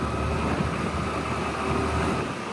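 A 2025 Suzuki Access 125 scooter engine runs under throttle with a passenger riding pillion, giving a steady, fairly loud mechanical hum that holds throughout without any talk.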